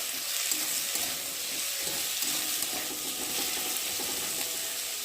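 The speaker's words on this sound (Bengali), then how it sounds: "চলো ভালো করে আলুগুলোকে ভেজে নেব" Potatoes fry in a pan for a Bengali pabda fish curry, giving a steady, close sizzling hiss with faint stirring and no talk.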